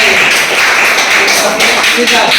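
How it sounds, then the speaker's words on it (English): Students in an English class clap their hands together as a group, making a dense, loud, rhythmic patter with voices mixed in. "Please clap your hands"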